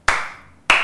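Audience applause at a youth financial-literacy talk, two short bursts of clapping from a crowd, each starting sharply and fading, with a pause of near quiet between them.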